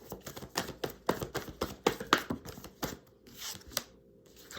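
Tarot cards being shuffled in a quick series of crisp riffling bursts and flicks, close and fairly soft, with a brief pause and a few lighter card slaps near the end.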